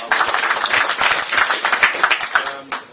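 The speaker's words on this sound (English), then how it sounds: "so a little round of applause for him as well" An audience at a Respect party political meeting in Bradford applauds, a dense burst of many hands clapping close and loud, steady for a few seconds before thinning out.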